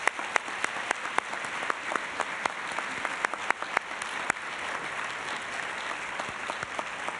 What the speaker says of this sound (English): Let's give this amazing group of leaders another round of applause.